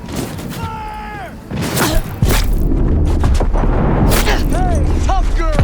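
Cyberpunk 2077 combat brings loud, close gunfire and heavy booming explosions in a dense, continuous barrage, with a few whining ricochet-like tones. Shouted voices sound through the din.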